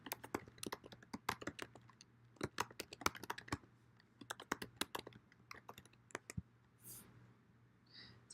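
Someone types on a computer keyboard while entering a first name into a WordPress user form, producing a dense run of close, crisp key clicks in irregular bursts with brief pauses, alone over a faint steady hum.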